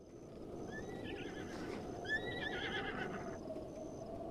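A horse neighs in Zelda: Breath of the Wild, a few rising whinny calls near the middle of the clip over steady broadband ambient noise, with no talking.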